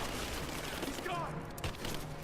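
Rapid bursts of gunfire crackle through a firefight in the video game Rise of the Tomb Raider, with loud overlapping shots and shouted voices mixed in.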